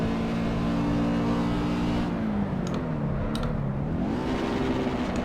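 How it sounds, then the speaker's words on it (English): A race car engine in the Assetto Corsa racing game drones steadily at high revs, pitch sagging and climbing again as it works through fast turns, loud and continuous with no talk. "don't blow up the engine"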